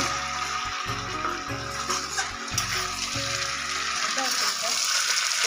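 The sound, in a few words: jackfruit frying in goat fat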